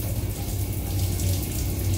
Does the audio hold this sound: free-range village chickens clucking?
no